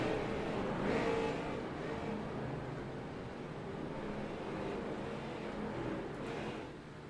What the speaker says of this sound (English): And the pace car is rolling. Here they go for heat number one.